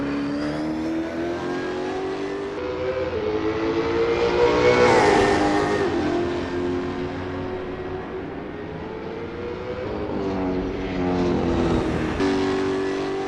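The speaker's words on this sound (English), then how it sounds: "The engines roar, the tyres squeal" V8 Supercar engines roar continuously in Assetto Corsa racing at Bathurst, a loud steady drone that swells as cars accelerate and pass, with no voices over it.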